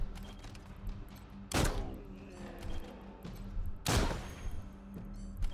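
Two sharp, loud gunshots ring out in the Wasteland 3 video game, spaced a couple of seconds apart over a low ambient hum, each with a short decaying tail.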